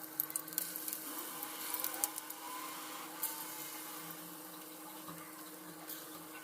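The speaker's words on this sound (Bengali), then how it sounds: "এবার পেঁয়াজগুলো বেসনের সঙ্গে ভালো করে মিক্স করে একে একে তেলে ছেড়ে দিচ্ছি।" Onion fritters coated in gram flour batter frying in hot oil, a steady dense hiss and bubbling that runs continuously at close range with no voices.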